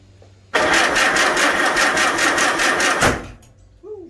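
A Farmall Super A tractor engine cranks with the choke on, a loud rhythmic chugging churn that starts suddenly, runs for about two and a half seconds without catching, then cuts off.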